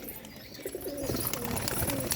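Hobby pigeons cooing in soft, repeated low calls over a steady background hiss, with a busier stretch of overlapping coos in the second half.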